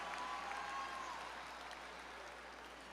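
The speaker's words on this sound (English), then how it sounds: "Let's give everyone a round of applause." A large crowd at Chicago State University's 372nd commencement claps in sustained, far-off applause that slowly tapers, with a faint tone briefly audible in the first second.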